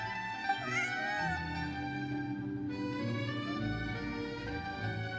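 A cat meows in the video game Genshin Impact, with a few drawn-out, wavering calls that sit over steady game music and stay fairly loud throughout.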